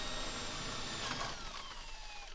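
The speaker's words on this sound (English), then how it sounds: "Place the spade bit in your pre-drilled hole and drill one side at a time." A power drill with a spade bit bores a spindle hole through a wooden door, a steady whirring drone that slowly drops in pitch as it loads, then trails off near the end.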